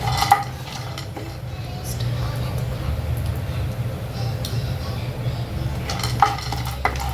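Peanuts being stirred in oil in a kadai, light metallic scrapes and clinks of a utensil against the pan over a low steady sizzle, with sharper knocks near the start and end.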